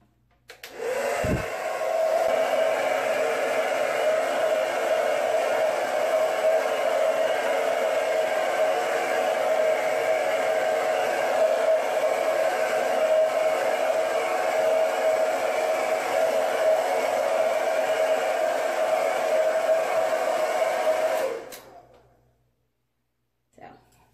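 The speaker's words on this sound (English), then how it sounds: "So I'm going to do the back with the blow dryer" A hair dryer on its hot setting blows steadily for about twenty seconds while drying a synthetic wig, a constant close whooshing hum with a whining tone that starts abruptly and cuts off near the end.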